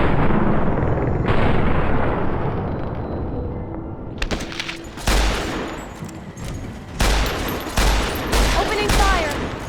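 Chinese assault rifle fire in the Fallout video game, loud bursts of rapid shots and heavy blasts crackling close by, with sharp separate volleys in the later seconds.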